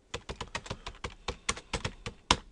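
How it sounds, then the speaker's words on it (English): Rapid typing of text on a computer keyboard while working in GIMP: a close, crisp run of about a dozen and a half separate keystrokes in an uneven rhythm, with no voices. "So I'm going to type that in here."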